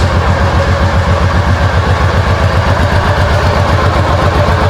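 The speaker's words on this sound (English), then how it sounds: "behind all that plastic is a V-twin Honda engine" A 1990 Honda Pacific Coast 800 motorcycle's V-twin engine idles loudly and steadily up close, its low, lumpy pulse repeating evenly throughout.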